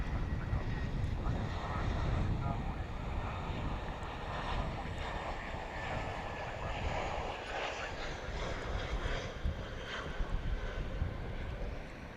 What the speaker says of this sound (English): It looks like Iberia coming in there on the east side from Madrid.